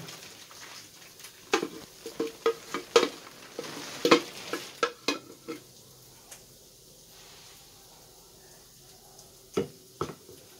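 Quiet sizzling of sauce in a pressure cooker pan with picanha, broken by sharp clinks and scrapes of a utensil stirring, bursts of clatter then calmer stretches.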